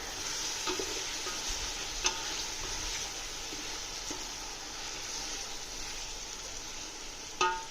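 Tomatoes cook in a pan for egg biryani, giving a steady close sizzle with a few faint clicks and taps and a brief clank near the end.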